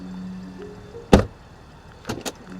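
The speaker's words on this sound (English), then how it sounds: "Door open and close sound from the outside" A 2020 Lincoln Aviator Black Label SUV door heard from outside: one solid, close thud, then a pair of quieter clunks, over a low idle hum.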